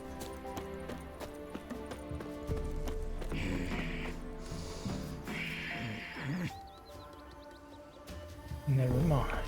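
Rhythmic hooves clip-clopping at a gallop with a horse whinny in The Witcher 3: Wild Hunt, over game music and sound effects, with a voice speaking at times.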